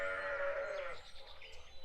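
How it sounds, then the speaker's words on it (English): Sheep bleating in the video game Plague M.D., a single drawn-out wavering bleat, fairly close and clear, fading after about a second into quieter background ambience. "voice behind me and I'm hearing a sheep"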